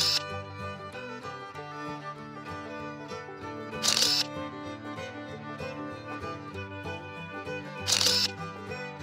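A camera shutter fires during snap photography in Chinatown, three crisp clicks evenly spaced about four seconds apart over steady background music.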